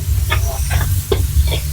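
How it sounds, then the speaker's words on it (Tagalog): Mung beans sauté in a pan over a wood fire for ginisang monggo with tinapa, a close, steady sizzle under a low hum, with repeated short stirring scrapes. "Maluluto din yan basta igisa mo mabuti."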